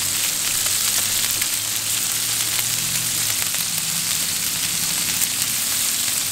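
A burger basted with butter and Frank's Red Hot sizzles and fries steadily in a pan, a loud continuous crackle with a low hum beneath, no talking.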